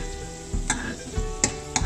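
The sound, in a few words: frying in ghee, sizzling bubbles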